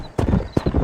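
Two quick bursts of horse hoofbeats from the video game Red Dead Redemption, a brief galloping clip-clop with a snort or whinny, close and fairly loud.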